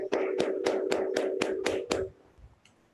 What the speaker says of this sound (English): you could give your applause to the whole team who is present here